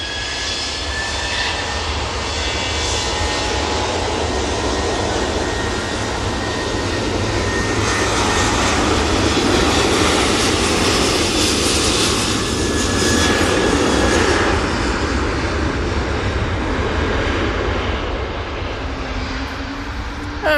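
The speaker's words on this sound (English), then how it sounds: "And next out will be the TUI 737-800." TUI Boeing 737-800 jet taking off at Manchester Airport bound for Palma de Mallorca, a loud sustained engine roar that swells and fades slightly across the whole span with no talk.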